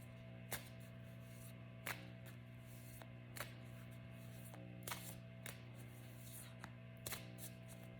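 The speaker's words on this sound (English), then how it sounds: "We're shuffling these now." Tarot cards being shuffled, quiet riffles at a steady pace, about one every second or so, over a constant low hum.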